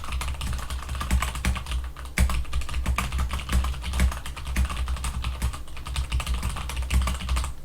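Steady, fast typing on a computer keyboard, with dense, close key clacks running continuously and with no one talking.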